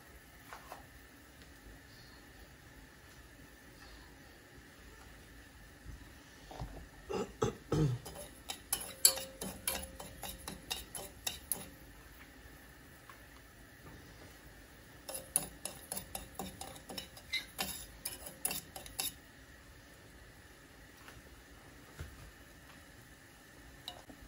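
Sugar is stirred in a pan as it dissolves, producing light scraping and ticking taps in two busy stretches separated by quieter moments over a low steady hum.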